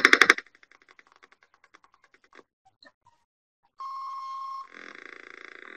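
A homemade 555 timer piano circuit gives a loud burst of buzzy noise, then a trail of faint ticking clicks. A steady electronic tone follows and turns into a rougher, noisy feedback drone.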